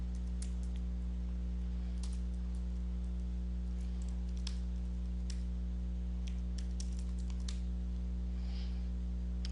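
Scattered keystrokes on a computer keyboard while entering an address into an office scheduling program, faint clicks in short irregular bursts over a loud steady electrical hum.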